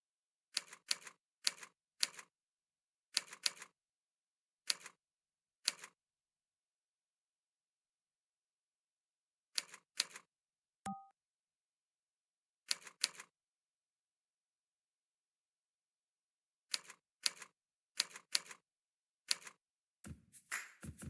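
Keys on a computer keyboard are struck in short clustered bursts of two to four taps, separated by long silent pauses, with one brief tone partway through; the taps are close and crisp.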